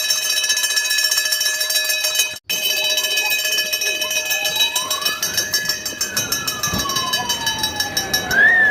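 A fire station alarm bell rings loudly and continuously, its steady metallic clangour broken by a brief gap, with a siren-like tone rising and falling through the middle.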